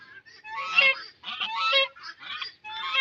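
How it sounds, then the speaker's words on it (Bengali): Domestic geese on a cattle farm in Komorpur village, Satkhira, honk loudly and close by in a series of harsh, repeated calls with brief pauses between bursts. "রাজহাঁস কিন্তু অনেক রাগী হয়"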